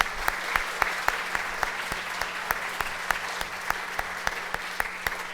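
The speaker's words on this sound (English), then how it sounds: "A big round of applause for all of the candidates." Applause for the candidates at a 2019 North Vancouver Island election debate: a steady wash of clapping from a modest audience, with sharper individual claps standing out at an even pace throughout.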